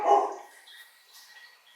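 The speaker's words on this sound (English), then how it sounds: "Enjoy the dog barking." A dog barks once up close at the very start, loud and sharp, then only a faint quiet background follows.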